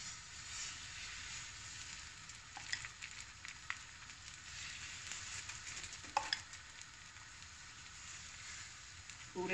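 Besan chilla batter fries in a pan with a steady, soft sizzle, broken by occasional scraping and stirring noises. No one speaks.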